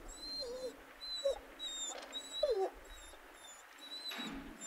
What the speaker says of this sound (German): Wie ein Hund. Wie ein Winseln.